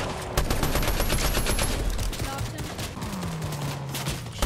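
Rapid bursts of gunfire in the video game Fortnite, including an SMG, crackle loudly and nearly continuously, with a rising tone sweeping beneath the shots.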